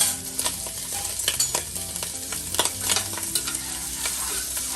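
Smoked meat cooking in a pot with collard greens, a loud continuous sizzle with scattered clicks and stirring scrapes close by, no talking.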